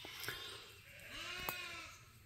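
Sheep and goats bleating on a farm where the two are run together, a few faint, distant wavering bleats over a soft outdoor background.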